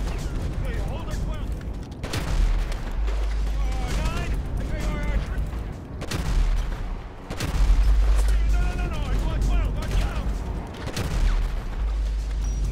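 Repeated bursts of gunfire in Grand Theft Auto 5, loud booming volleys that keep recurring across the stretch, with someone talking over them between shots.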